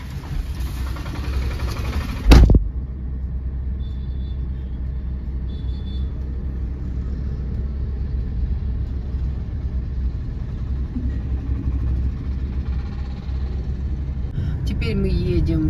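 Steady low engine and road rumble from inside a moving car, continuous for the whole stretch, with one brief loud thump near the start.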